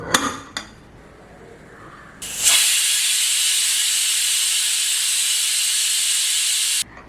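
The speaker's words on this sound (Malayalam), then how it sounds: "അപ്പോൾ അതാ കുക്കറിൻ്റെ ആവിയൊക്കെ പോയി." A pressure cooker holding a yellow curry vents steam in a loud, steady hiss that starts abruptly, runs unbroken for several seconds and then cuts off sharply. A few faint kitchen knocks come before it.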